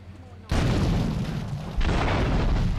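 Explosions from a thrown grenade or Molotov cocktail in the video game GTA III Remastered: two loud, broad booming blasts about a second apart, each rolling into a sustained rumble.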